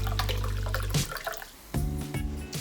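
Saint-Géron naturally sparkling water is poured into a glass at a restaurant table, a short burst of gurgling liquid followed by a pause and a second splashing pour.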